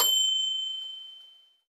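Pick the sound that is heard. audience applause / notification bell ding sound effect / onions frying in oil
notification bell ding sound effect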